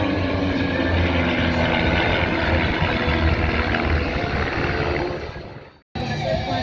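Propeller airplanes fly low in formation at the Wings Over Camarillo air show, a loud, steady engine drone that fills the scene before briefly dropping out near the end and returning.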